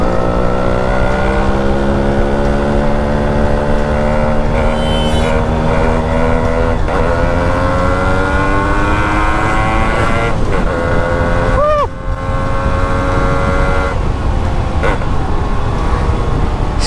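A fully modified Yamaha RX100 two-stroke motorcycle engine revs hard and steady, its loud, continuous whine rising and falling in pitch over many seconds, close by.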